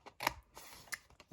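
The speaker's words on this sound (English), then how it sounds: "We're going to take our scissors and we're going to cut down to the second score line for each of these" Scissors snipping through card down to a score line while making a gift box, a few quiet, close crisp cuts with short pauses between them, no talking.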